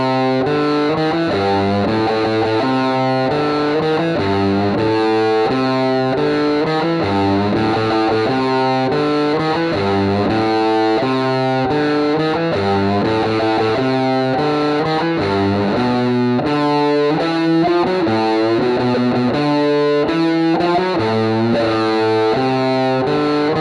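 Distorted electric guitar chugs through a main riff, loud and continuous, with dense repeated palm-muted notes and bends and no voice over it.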